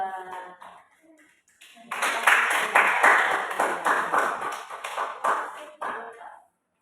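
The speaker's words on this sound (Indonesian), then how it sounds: "tepuk tangan untuk kelompok 2" A class in a classroom bursts into clapping for a student group after a quiet pause, a dense burst of close hand claps that fades out after a few seconds.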